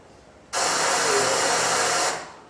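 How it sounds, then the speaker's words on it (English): A pink noise test signal plays over speakers in a seminar room, a steady broadband hiss lasting about one and a half seconds that starts abruptly and cuts off with a short room decay. "I'll give you some pink noise just."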